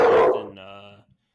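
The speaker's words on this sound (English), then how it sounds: "There's a dog's barking out there." Dog barking outdoors during heavy rain, a short burst of barks heard at a distance behind speech, fading out after about a second.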